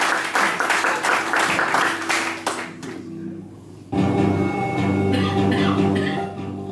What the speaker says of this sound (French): On peut l'applaudir d'une bonne main.